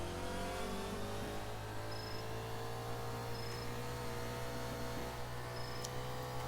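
A car engine in a Roblox driving game hums and revs continuously at a fairly even pitch, loud and steady throughout, with no talking over it.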